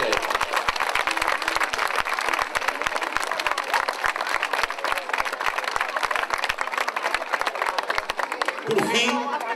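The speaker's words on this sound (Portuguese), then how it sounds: "Uma grande salva de palmas" A crowd at the 2014 São Martinho festival in Guifões applauds a conductor with dense, steady clapping that carries on evenly, then a voice starts speaking at the very end.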